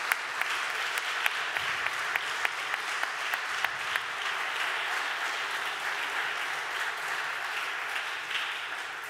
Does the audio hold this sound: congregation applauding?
yes